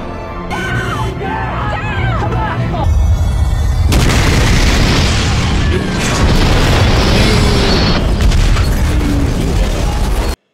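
A loud, deep explosion booms in a TV show and rolls on as a sustained rumbling blast, following a stretch of lighter sounds.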